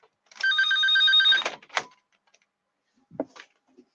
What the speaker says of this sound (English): Why does the phone ring every time I'm in here?